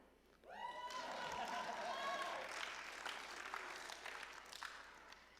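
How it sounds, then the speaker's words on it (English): An audience at a Shavuot evening 10th grade confirmation service breaks into steady clapping right after a brief spoken line, the applause holding for several seconds before gradually thinning out. "That's your cue to clap"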